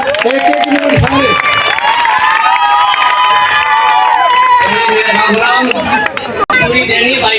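A crowd at a neighbourhood political gathering in Gurugram's Firoz Gandhi Colony cheers and claps loudly, with shouting voices and children's cries mixed into the noisy, sustained din.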